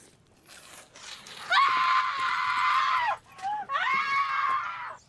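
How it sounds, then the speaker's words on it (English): A person lets out two long, loud, shrill screams close up, the first held for over a second, the second following after a brief breath, with no other talk. "I'm gonna scream."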